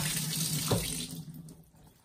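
Tap water runs into a pot for cooking rice with chicken, a strong splashing pour for about a second that then fades into quieter trickling.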